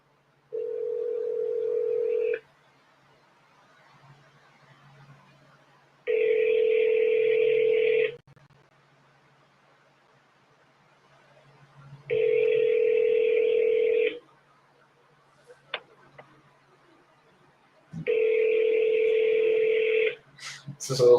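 An outgoing phone call rings out with the steady two-tone ringback signal, four evenly spaced two-second rings separated by about four seconds of near silence, clear and close.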